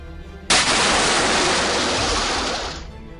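A sudden loud rush of water, a sustained broadband gushing roar for the anime-style Water Breathing Eighth Form, Waterfall Basin, starting abruptly and holding steady before tapering off after about two seconds.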